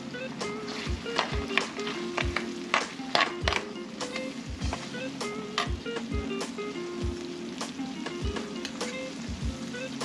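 Green chillies and curry leaves fry in hot oil for a Telangana pot-style fish curry, with a steady crackling sizzle broken by regular sharp taps and a faint voice in the background.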